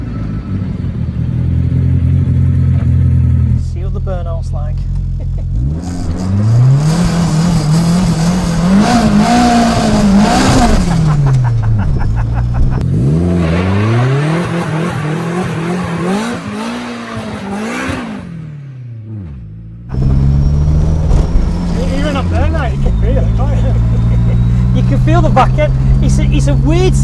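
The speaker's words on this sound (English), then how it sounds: "See what the burnout's like." A Vauxhall Viva VXR with a rear-wheel-drive engine swap doing a burnout, its engine revving hard in repeated rising and falling surges amid tyre squeal, loud and close, with a brief lull near the end before the revving resumes.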